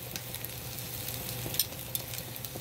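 Hot dogs and sausages frying in a pan, a steady close sizzle with soft crackles and pops, heard alone without talk.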